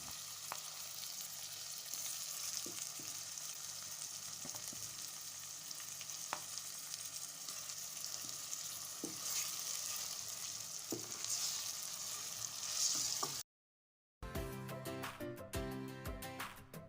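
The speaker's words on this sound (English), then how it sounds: "After frying the onions for some minutes, I then add the blended peppers and fry." Blended peppers and onions fry in a pan with a steady, dense sizzle and occasional soft stirring clicks, close and continuous, broken by a brief gap near the end.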